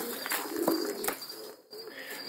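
Pigeons coo in a loft, with a few soft calls and chirps close by, some faint rustling in between and no talk.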